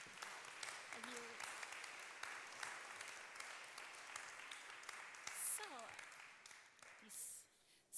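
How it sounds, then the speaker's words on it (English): Audience applause after a conference session on engaging with society, a steady broadband patter lasting several seconds with a few voices mixed in over it. "a big applause for your contributions"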